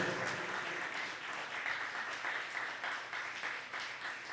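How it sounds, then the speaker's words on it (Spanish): A church congregation gives strong applause during a worship service, a dense, continuous patter of many hands clapping at moderate distance, steady with slight swells, no voices over it. "Démosle un fuerte aplauso al Rey de Gloria"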